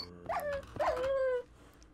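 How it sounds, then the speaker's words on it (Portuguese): A dog in a video game whimpers twice in quick succession, high and plaintive, the second cry drawn out longer, clear and alone against a quiet background. "Tem um cachorro morrendo."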